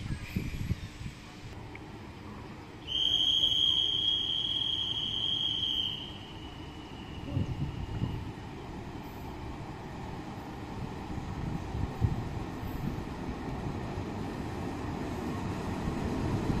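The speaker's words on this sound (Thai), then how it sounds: "ธนบุรีหลังสวนเข้าจอดในชันชลาที่ 4 นะครับทำกระบวนโดยหัวรถจักร อันสตอมนะครับ" Ordinary train 255 pulled by an Alstom diesel locomotive arrives at a platform, a continuous low rumble with a squealing brake tone for a few seconds, heard at moderate distance.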